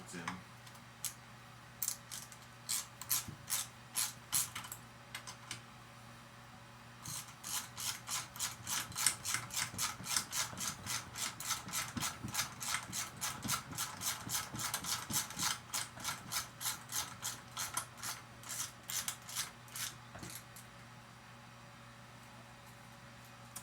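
Repeated ratchet clicks from a half-inch ratchet snugging cylinder head bolts on a 10 hp Briggs & Stratton generator engine, coming in short rapid bursts then a long steady run of even clicks, faint and close.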